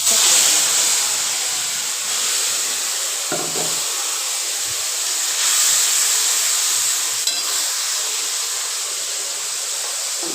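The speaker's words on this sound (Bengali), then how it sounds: "তেল গরম হয়ে গেছে, জিরে বাটা, আদা বাটা, কাঁচা লঙ্কা পেস্ট সব তেলের মধ্যে," Pastes of cumin, ginger and green chili, along with bay leaves, frying in hot oil make a constant bright sizzle and hiss, with a few soft stirring knocks.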